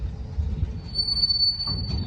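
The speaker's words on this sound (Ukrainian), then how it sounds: "А тут поїзд далі тормозить." A graffiti-covered train brakes nearby with a steady low rumble, and a thin, high squeal of wheels on rails runs through the second half.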